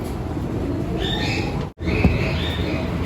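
Racing pigeons in a loft, old birds just back, give soft coos and short calls against a steady, noisy room background, with a brief dropout midway.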